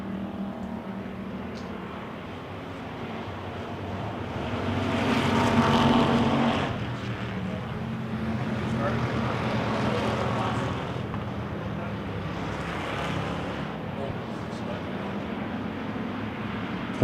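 WISSOTA pure stock cars race around a dirt track at a July 4th event, a continuous loud engine roar from the passing pack that swells and fades as cars go by, with an announcer's voice faintly mixed in.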